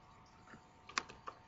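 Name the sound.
typing a command on a computer keyboard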